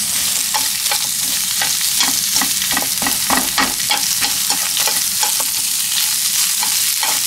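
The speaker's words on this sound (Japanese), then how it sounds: "炒めます。" Onions and cabbage fry in a pan for Korean tteokbokki. A loud, constant sizzle is broken by rhythmic scraping strokes as the vegetables are stirred, with no talking.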